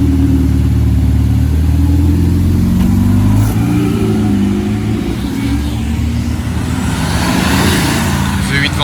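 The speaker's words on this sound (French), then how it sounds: "RS6 C8 qui passe juste ici," An Audi RS6 C8 with German plates drives past on a Monaco street, its engine note swelling and fading against busy traffic and crowd noise.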